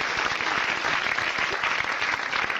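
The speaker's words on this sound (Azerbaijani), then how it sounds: "mən dərzini alqışlamaq istəyirəm" An audience at a comedy stand-up show breaks into loud, steady clapping that fills the whole stretch with dense, continuous applause.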